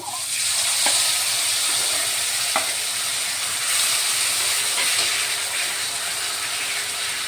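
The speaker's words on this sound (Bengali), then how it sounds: "এখন আমি মশলাটা দিয়ে দিব। মশলাটা ভালো করে কষে নিতে হবে।" Ground spices sizzle steadily in hot oil with bay leaf, fennel, nigella and cumin for a koi fish mustard-cumin curry, with occasional clicks of a spoon stirring the pan; no speech.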